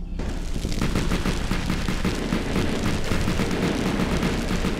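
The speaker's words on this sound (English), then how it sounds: "Of course, antimatter blaster is all we really need." An antimatter blaster fires in the Starfarer space combat game, a dense, continuous rapid burst of loud crackling shots that fills the whole stretch without pause.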